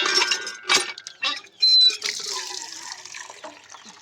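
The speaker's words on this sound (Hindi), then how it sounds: "यही है मेरा नल।" Water running from a household tap in a modest Indian home, heard as close, uneven bursts of splashing and gushing that start and stop several times, with faint clinks in between.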